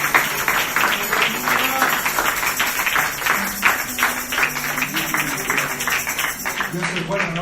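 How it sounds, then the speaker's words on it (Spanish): Congregation applause at a Friday Spanish-language church service in Seattle, WA, dense steady clapping spread across the whole stretch, with a voice or music tones running under it. "Démosle un fuerte aplauso a nuestro Señor Jesús."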